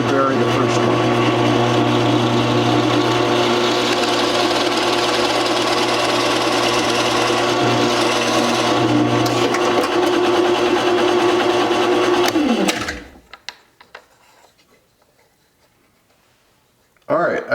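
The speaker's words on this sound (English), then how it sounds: "I'm going to drill deep enough to embed a penny" A drill press bores deep into a wooden bottle-opener blank to seat a penny, a steady loud machine whine running for about twelve seconds before it cuts off, leaving near silence and then a brief noise at the end.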